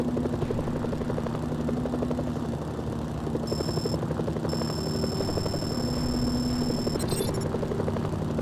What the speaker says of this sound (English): Incoming helicopters.